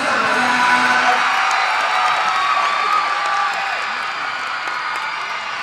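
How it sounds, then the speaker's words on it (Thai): A large crowd at a Khon Kaen University cheerleading showcase for the Faculty of Education roars with sustained applause, whoops and shouted cheers, loud and continuous, easing slightly toward the end. "ขอเสียงปรบมือต้อนรับซึ่งจะมา"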